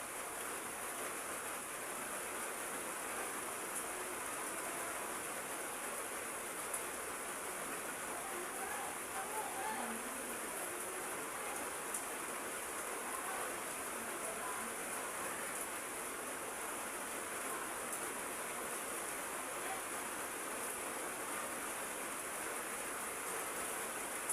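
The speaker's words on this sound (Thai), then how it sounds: "มาถ่ายบรรยากาศยามฝนตกพี่น้องจ้าฝนตกยามเช้า" Steady morning rainfall outdoors, a continuous broadband hiss of drops holding an even level throughout with no distinct individual impacts, alone without talk.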